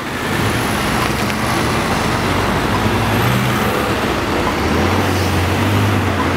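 Steady roar of heavy traffic on the Pacific Highway, cars and trucks rushing past continuously with low engine rumble and occasional louder passing vehicles.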